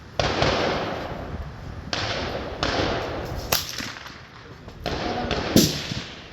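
A suppressed Rossi RS22 rifle fires roughly five sharp, close shots spaced a second or so apart, each a crisp crack with a short tail, while a voice talks quietly between them.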